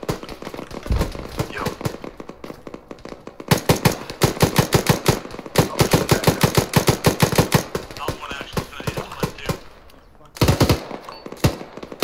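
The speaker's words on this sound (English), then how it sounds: "We're getting shot." Rapid gunfire in a co-op shooter video game: dense automatic bursts rattle close and loud, nearly nonstop, with short pauses between, while players shout over them.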